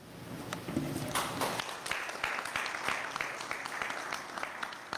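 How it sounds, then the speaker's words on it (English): Sustained applause from an audience at a legal award ceremony honouring Indo-US lawyers, a dense steady patter of many hands clapping throughout, with faint voices murmuring underneath early on. "Let's give a round of applause for their exceptional legal expertise"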